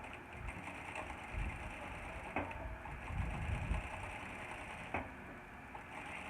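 A sewing machine stitches channels for swim fins, a steady low mechanical whir running throughout, with a few sharper clicks and small pauses and no talk.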